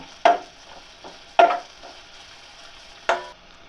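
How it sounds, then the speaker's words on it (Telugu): Sliced onions for chicken dum biryani roast in a pan with a steady, faint sizzle, broken by three sharp scrapes of a spoon stirring them at irregular intervals. "మనం కట్ చేసి పెట్టుకున్న ఆనియన్స్ని బాగా రోస్ట్ చేసుకొని పక్కన పెట్టుకోవాలి"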